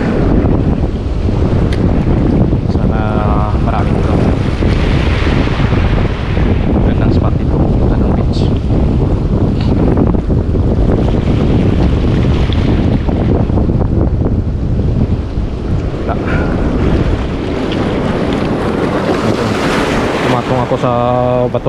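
Wind blowing hard at a waterside fishing spot on rocks with high water, a steady, loud roar buffeting the microphone throughout with surf washing underneath and no talking.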